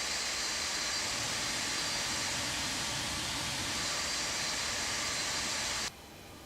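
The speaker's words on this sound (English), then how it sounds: "We're just going to wait now for engine number 1 to stabilize." Aircraft jet engine number 1 running steadily at idle after start-up, with light rain outside: a loud, continuous broadband roar with a high whine, holding level before dropping abruptly near the end.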